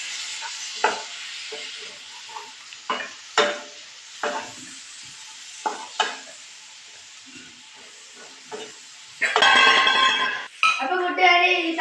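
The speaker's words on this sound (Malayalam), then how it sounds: "അപ്പോൾ ഇനി നമുക്ക് തക്കാളി ഇട്ട് കൊടുക്കാം. നല്ലോണം മിക്സ് ചെയ്യും." Tomatoes are stirred and cooked in a pan for an egg roast, giving scattered scraping and clinking strokes over a soft sizzle, then a louder burst of hissing sizzle near the end.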